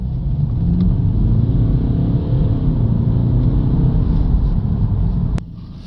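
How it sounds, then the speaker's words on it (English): A Mercedes C250 CDI diesel with a blocked DPF accelerates hard on a test drive, a loud steady engine drone from inside the car that holds for about five seconds before dropping off after a click. "Just make sure as well that the boost is working by doing a full acceleration."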